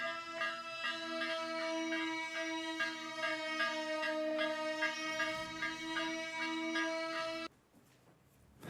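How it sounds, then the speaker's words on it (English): A warning bell from a video game rings as a steady, sustained metallic tone with regular pulsing strikes, moderately loud and alone for about seven seconds, then cuts off abruptly. "Gustav, that's a bell, and that means danger"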